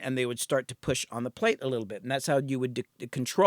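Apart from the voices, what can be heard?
No distinct noise like a dog, phone or traffic.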